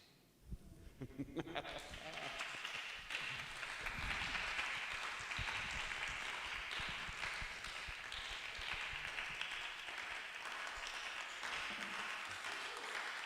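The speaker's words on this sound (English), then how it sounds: "Oh, extended clap." Extended clapping from a spiritual talk audience, starting after a brief quiet moment and continuing as a steady crowd applause for over ten seconds, with some voices mixed in.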